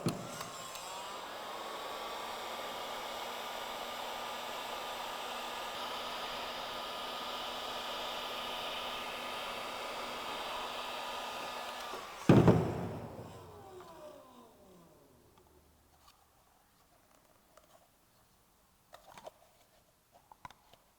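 A heat blower warms a plastic fitting for a shop-made three-port vacuum manifold, a steady airy whoosh running about twelve seconds before it cuts off abruptly, followed by a few faint clicks and handling sounds.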